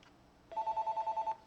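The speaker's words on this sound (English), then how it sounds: "I'm going to mute my phone." A mobile phone ringing with a rapid, evenly pulsing electronic tone, about a second long, fairly faint against a quiet room.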